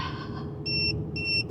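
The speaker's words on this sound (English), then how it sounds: "High pressure alarm on the tires." Two steady electronic alarm beeps from an RV's tire pressure monitoring system warning of high tire pressure, sounding over low road and cabin rumble inside a moving RV.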